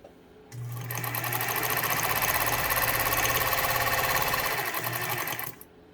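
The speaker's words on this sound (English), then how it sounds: "So this machine has so many options in terms of what type of stitch you can make with it." A Pfaff 230 sewing machine runs steadily for about five seconds, with a fast rhythmic stitching clatter and a low motor hum, close and clear with no voices.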